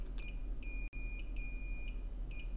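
A multimeter's continuity beep while probing a circuit board, several short high electronic tones in an irregular pattern over a low hum, quiet and close with no talking.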